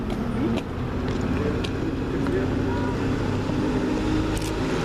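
Z&S Transport bus on Route 18 to Bletchley in Milton Keynes passing by, a steady broad engine and road rumble close by amid traffic noise, with no clear approach or fade.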